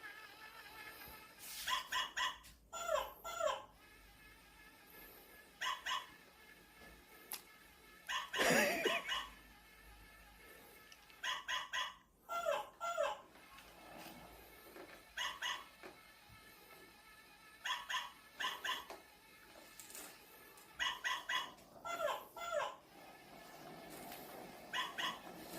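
A new plush toy dog gives off repeated electronic barks, yips and whimpers in short bursts, fairly close and clear over a quiet room.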